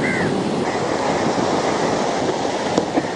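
Rough sea on the northwestern coast of Sri Lanka in stormy weather: a loud, constant roar of breaking waves and surf, mixed with wind buffeting the microphone.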